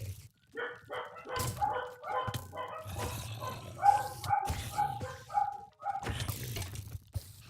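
Dogs in a hardcore survival video game bark repeatedly in a quick, rhythmic run, mixed with clicking, ratcheting mechanical sounds, fairly loud and close.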